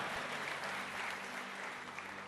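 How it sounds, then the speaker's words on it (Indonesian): Church congregation applause during a sermon, a faint but dense, continuous hiss of many hands clapping that stays steady across the short stretch. "Jangan tepuk tangan saudara"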